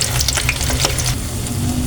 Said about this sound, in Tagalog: habang nagpiprito po ako at gagawa po ako ng sausawan